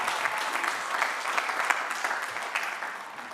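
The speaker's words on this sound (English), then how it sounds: "Give all of them a round of applause." An outdoor university commencement crowd gives a sustained round of applause, dense clapping that slowly tapers toward the end.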